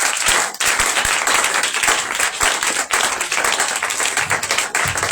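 A church congregation applauds loudly and steadily through a Shavuot service, dense clapping filling the room with a few sharper claps standing out near the end.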